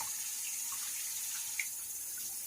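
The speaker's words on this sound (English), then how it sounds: "So I'm going to get my head wet with some hot water here." Hot water runs steadily from a bathroom tap before a head shave, a constant hiss of flowing water with no voices.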